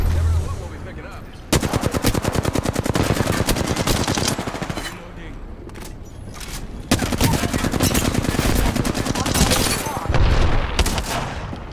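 Automatic weapons rattle in an Apex Legends match, long rapid bursts of close gunfire in two main volleys with brief pauses and scattered single shots, loud and dense, with faint game voice lines underneath.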